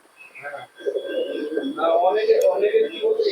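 Old-line Giribaz pigeons coo in low, throaty murmurs that grow fuller and more continuous, close to the microphone, while someone speaks over them.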